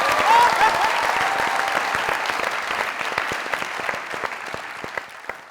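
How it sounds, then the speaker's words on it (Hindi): Studio audience applause on a Pakistani comedy talk show, a dense steady wash of clapping that stays fairly loud, then thins and tapers slightly toward the end. "जबरदस्त किस्म की तालियां।"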